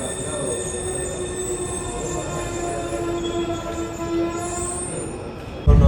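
A metro train rumbles along steadily with a high whine and faint squeal, ending in a sudden loud burst near the end.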